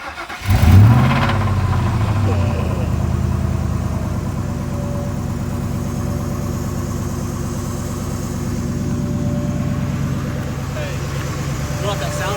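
Ford F-150 pickup with a 4.6 Triton V8 cranks and fires within the first second, then settles into a steady, close, rumbling idle with a faint whir, as people talk over it.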